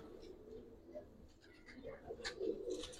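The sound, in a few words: giribaz pigeons cooing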